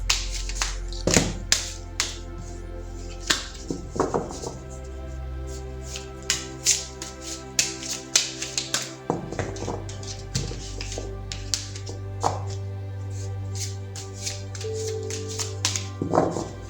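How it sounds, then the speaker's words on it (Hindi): Tarot cards shuffled by hand for a love reading, giving repeated soft taps, flicks and riffles in an irregular rhythm over a steady low background hum, close and moderately quiet. "तो चलिए पहले ज़रा कार्ड्स को शफल कर लेती हूँ।"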